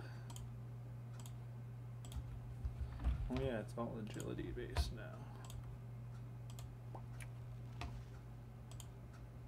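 Computer keyboard keys click in scattered taps while a gamer talks briefly over a low steady hum in the background.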